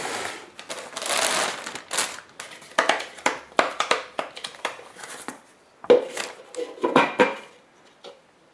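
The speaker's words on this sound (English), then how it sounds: "This is the plastic lid" Clear plastic lid of a Euro Cuisine yogurt maker handled and set down, with a string of light hollow clacks, taps and rattles, loud at first and then sparser, with a few sharper knocks near the end.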